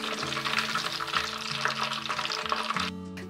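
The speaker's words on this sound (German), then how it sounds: "Zum Schluss bei starker Hitze nochmal 1 Minute frittieren." Food deep-frying in hot oil over high heat, a steady dense sizzle with stirring clatter and crackle running throughout, close and fairly loud, easing slightly near the end.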